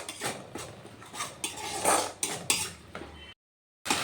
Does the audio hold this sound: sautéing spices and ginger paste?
yes